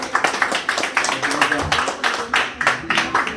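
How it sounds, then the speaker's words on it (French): A group of people claps for the winners at a Halloween murder-mystery party, with uneven bursts of applause mixed with loud chatter and voices throughout. "On applaudit les gagnants"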